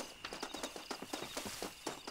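Rapid, regular hoofbeats of a horse galloping in Red Dead Redemption, a steady clip-clop rhythm of about four strikes per second, close and continuous with no talk.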